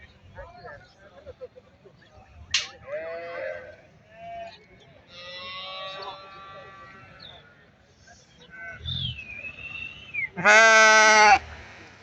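Several sheep bleating from a flock for sale in a village in the Yevlakh district of Azerbaijan, close and loud cries one after another, with a final long strong bleat, over quiet background chatter.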